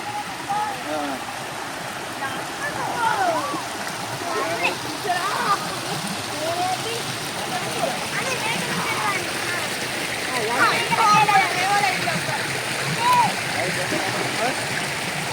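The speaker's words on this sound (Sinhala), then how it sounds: "ඉතින් අර අතන තියෙනවා ඒ ඇල්ල" Constant rushing roar of Wangedi Mol Ella waterfall in Sri Lanka nearby, with splashing water and faint voices talking over it.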